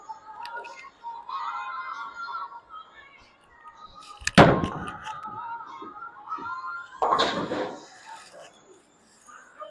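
A bowling ball is thrown as a warm-up shot on a bowling alley lane: a heavy booming thud, then a few seconds later a second loud crashing burst, over a quiet murmur of alley noise and faint distant voices.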